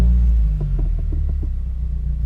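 A Subaru WRX fitted with a Nameless axleback exhaust drives off, a loud, deep throbbing exhaust rumble with rapid pulsing as the engine revs, close and alone.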